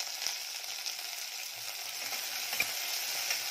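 Onions sautéing in a pan with curry leaves and green chillies for mutton curry, a steady, moderate sizzle with light spatula stirring and a soft knock near the end.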